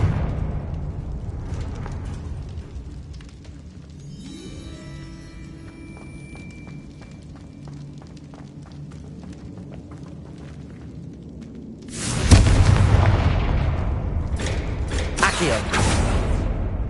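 Explosive Confringo spell blasts from Hogwarts Legacy, a loud broadband burst erupting late and followed by a few more crackling impacts, after a stretch of quieter magical whooshing and chiming game ambience.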